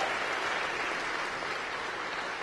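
Steady, dense applause from an audience welcoming a women's college basketball team with three Pac-West championship trophies, a continuous wash of clapping at moderate volume with no talk over it.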